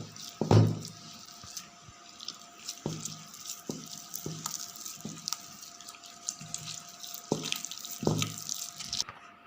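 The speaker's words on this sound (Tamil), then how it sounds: "தண்ணி ஊற்றி கொஞ்சமாக தண்ணி ஊற்றிக்கணும்." Water poured a little at a time into gram flour batter for onion cheese rings: short, close splashing gushes and trickles with drips between them, repeated in uneven bursts.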